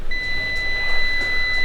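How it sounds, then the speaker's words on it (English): A digital multimeter gives a continuous high-pitched continuity beep when its test leads touch together, a single steady tone held nearly the whole time over faint background hum. "we have an audible beep, which means that we have continuity between 2 points"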